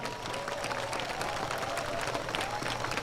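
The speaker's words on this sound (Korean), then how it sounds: "우리 문정진 회장님과 소유섭 본부장님에게 고맙다고 박수 한번 쳐드리시지요." A crowd claps steadily at an outdoor festival event, a dense patter of many hands that keeps going at an even level throughout.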